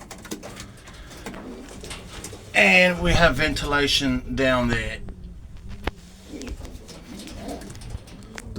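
Racing pigeons coo in a small loft built from Q-block aluminium with bob-wire entrances, a soft burst of cooing rising for a couple of seconds under a man's speech, with faint bird sounds before and after.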